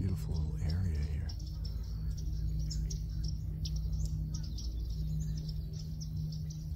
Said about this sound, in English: Just the sounds of the nature, all the birds and everything is just, it's so relaxing.